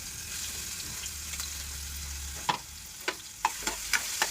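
Ground green chillies and mustard seeds dropped into hot oil in a home kitchen, a steady soft sizzle with several sharp crackling pops toward the end, close up and without talk.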